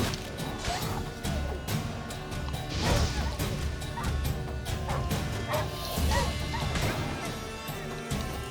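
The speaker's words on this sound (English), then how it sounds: "Doggies!" Stray dogs in The Witcher 3 bark and yelp in a frantic pack attack, with repeated sharp barks over thuds and clashing combat hits and a steady game background.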